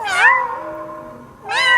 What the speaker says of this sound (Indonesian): Oh, cuma suara kucing.